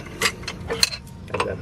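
A wrench ratchets on a car during a drift build, giving a few short, sharp mechanical clicking bursts spaced irregularly, close up and moderately loud with no talking.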